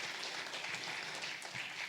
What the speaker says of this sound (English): We give them another round of applause,